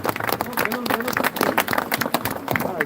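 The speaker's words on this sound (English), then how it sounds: "A big round of applause, ladies and gentlemen." An audience at a Meghalaya celebration of Netaji Subhas Chandra Bose's 125th birth anniversary claps, dense irregular applause mixed with voices and crowd noise throughout.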